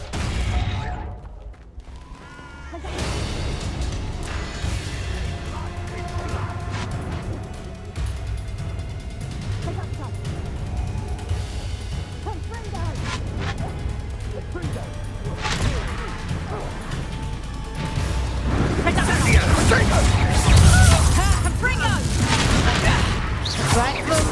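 Repeated blasting spell explosions from Hogwarts Legacy, bursting and crashing over a dense game soundscape of music and effects, growing louder and heavier toward the end, with a voice shouting spell names amid the fight.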